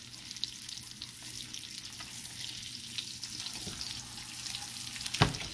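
A turned salmon fillet fries in a pan with a steady, close sizzle and crackle, with a faint clink near the end and no voices.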